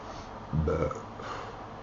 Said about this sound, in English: Oh, I'm burping on live TV here.